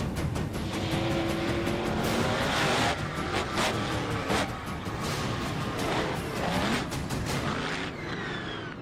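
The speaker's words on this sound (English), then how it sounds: "This particular one is a petrol-driven monster truck" Petrol-driven Dodge Fargo monster truck with a 572 block engine, turbo 400 transmission and tyres over 5.5 feet high, driving hard: a loud, continuous engine roar with bursts of tyre squeal, fading slightly at the end.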